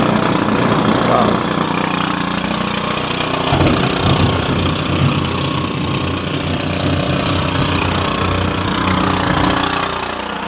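A freshly cranked engine on a machine cutting erosion-control work runs steadily and loudly, a continuous close rumble with no pauses.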